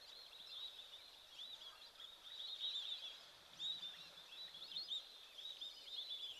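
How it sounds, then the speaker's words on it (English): A flock of white-faced whistling ducks calls at a waterhole, a continuous chatter of thin high whistles rising and falling at a distance, with no talking. "It's lovely to just listen to the sound of those white-faced whistling ducks."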